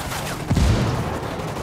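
Gunfire in Ghost Recon Wildlands: a muffled thump lands mid-clip over a constant roar of rattling shots and ambient noise, no speech.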